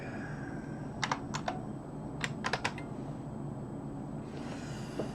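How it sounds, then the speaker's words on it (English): Quiet bursts of mechanical keyboard typing, a few quick clicking keystrokes in small clusters over a steady low background hum, no talking. "I have this mechanical keyboard"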